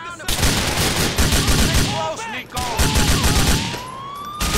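Rapid bursts of gunfire in the video game GTA 4, with volleys of shots cracking out over a wailing police siren, loud and close, with brief gaps between bursts.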